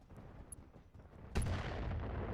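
A bomb goes off in the mech combat game RogueTech, a sudden loud blast that follows a low rumble of battle and leaves a sustained roaring tail.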